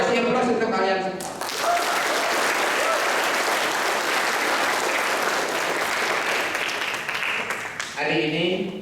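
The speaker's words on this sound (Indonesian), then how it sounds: "Kasih aplaus untuk kalian semua." A crowd bursts into loud, sustained applause at a pencak silat opening ceremony, clapping filling the space for several seconds before fading as a voice speaks over a PA at the start and end.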